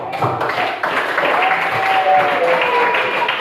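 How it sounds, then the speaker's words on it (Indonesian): Students at a coding and artificial intelligence training session at SMPN 11 Kota Komba clap for a classmate, a full round of applause that holds steady for several seconds, with faint voices mixed in. "Mari kita tepuk tangan dulu untuk dia."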